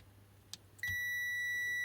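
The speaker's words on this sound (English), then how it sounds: "So that's metering continuity mode, so if I put the probes together, it will beep" A click as multimeter probes touch, followed by a steady, high continuity-mode beep that starts abruptly and holds continuously, loud and close.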